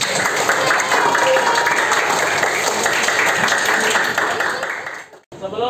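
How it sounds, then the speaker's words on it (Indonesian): A fifth-grade classroom of pupils claps for their classmate Nasrul, a loud, busy patter of many small hands that carries on for several seconds before fading out abruptly, with a voice briefly heard afterward. "beri tepuk tangan untuk Nasrul"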